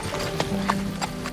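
Horse hooves clip-clop in a brisk, uneven rhythm on firm ground close by, a few sharp knocks over a short span with quiet background.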